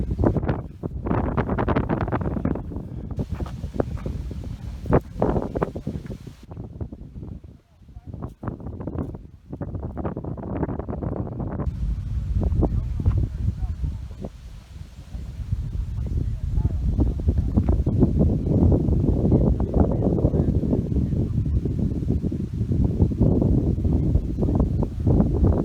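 Strong gusting wind buffets the microphone at a mountain overlook along an Appalachian Trail section hike in Virginia, a loud continuous low roar that surges and dips, with a speaking voice mixed in during the first half.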